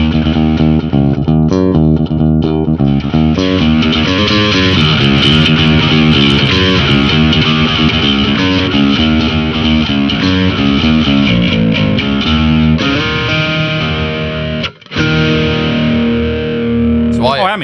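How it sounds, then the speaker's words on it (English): A bass guitar through a Valeton GP200R plays a loud, gritty riff with distortion blended into the clean DI tone, notes chugging steadily before a brief pause and a sustained finish. "blend your DI, or your normal bass tone, with the distortion"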